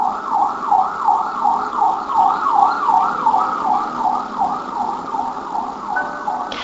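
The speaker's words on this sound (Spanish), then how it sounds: "La sirena de una ambulancia o la de la policía." An ambulance or police siren wails in a steady rising-and-falling cycle as it passes a roundabout, loud and close over a low road rumble, with no voices.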